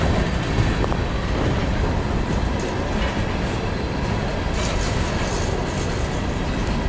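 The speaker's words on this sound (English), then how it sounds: "it's taking ages for this train to pass." An Amtrak Silver Star passenger train rolls past close by at Petersburg, Virginia, in a continuous loud roar of wheels and rattling cars, never easing for the whole stretch.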